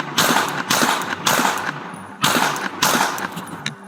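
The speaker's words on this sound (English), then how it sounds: "The suspect fires 14 shots at the officers" Several bursts of gunfire from police shooting footage, loud, close and rapid, arriving in four or five distinct volleys with brief gaps between them.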